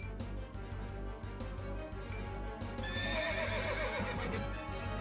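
A horse neighs and hooves clip-clop in a video game, Sakura Wars So Long My Love, over a constant low hum.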